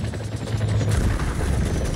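Helicopter in the video game Gears 5, a steady loud rotor thrum with a low drone, heard close and continuous, with faint distant rattles of gunfire mixed in.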